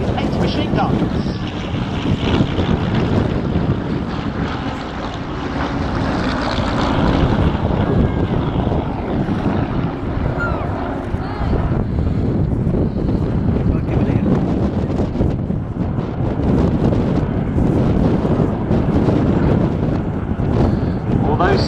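Hawker Hurricane fighter flying past at the 2017 Cosford air show, a loud continuous propeller-engine drone sustained throughout, heavily buffeted by wind on the microphone with a faint voice underneath.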